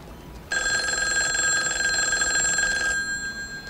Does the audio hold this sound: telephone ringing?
yes